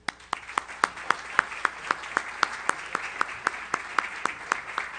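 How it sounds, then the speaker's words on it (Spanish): A single set of hands claps in a steady, evenly spaced rhythm at a formal lecture event, crisp, moderately loud sharp strikes repeating over a faint room background. "pido que lo recibamos con un fuertísimo aplauso"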